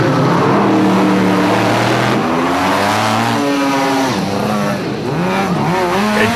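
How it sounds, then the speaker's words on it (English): Rally race cars blast off the start line at intervals near Sun City, engines revving loudly and rising in pitch with tire squeal, a heavy, sustained close roar. "a spectacular charge of heavy machinery as cars blasted off the line"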